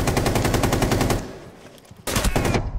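Rapid automatic fire from the Capitao LMG in Rainbow Six Siege, a loud sustained burst that breaks off for about a second of quieter sound, then resumes abruptly at full volume.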